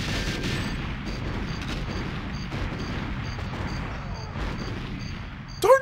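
Gunfire in GoldenEye 007, repeated muffled shots over a constant rumbling background, ending in a sharp louder burst, with no talking.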